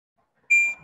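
A short synthetic hurt tone from a Construct 3 game, played once when the player is hit, bright and piercing, with a faint noisy tail after it and no voices.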